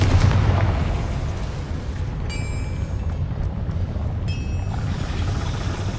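Explosion effects from the Bombarda and Confringo spells in the video game Hogwarts Legacy: a loud booming burst at the start that decays into a sustained rumbling roar, with thin high tones near the middle.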